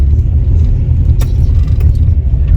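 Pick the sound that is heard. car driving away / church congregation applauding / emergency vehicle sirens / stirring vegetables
car driving away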